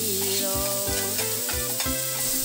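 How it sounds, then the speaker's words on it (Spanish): Yellow onion sautéing in a pan for a Colombian goat-in-beer sauce, a steady close sizzle with rhythmic stirring scrapes, while a strong low tonal hum pulses underneath. "Agregamos la cebolla cabezona y salteamos por un momento."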